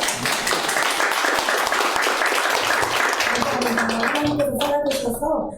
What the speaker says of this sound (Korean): 간증해 주신 목사님께 다시 한번 박수를 감사합니다